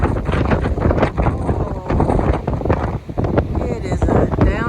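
Gusty wind after a storm in Idaho roars steadily across an outdoor microphone, with loud, rumbling buffeting that barely lets up for the whole stretch.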